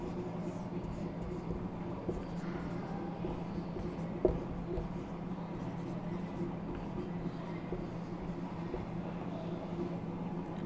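Chalk or marker writing on a board during an inorganic chemistry lecture, faint scratching under a steady low room hum, with one sharp tap partway through.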